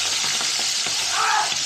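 Prawns hitting hot oil tempered with cumin and chili, a loud continuous hiss and sizzle with light stirring scrapes, close up and steady throughout.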